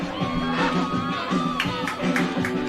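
A big crowd cheers and shouts at an AFL match between the Tigers and the Reds, a steady roar of voices with whoops rising and falling at some distance, and no clear foreground talk.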